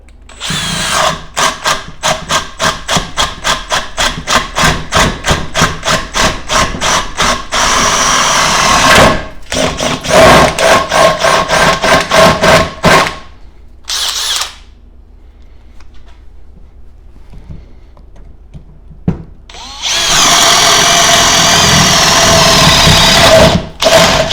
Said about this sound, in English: let's do a few holes with the 1-inch spade bit with the Makita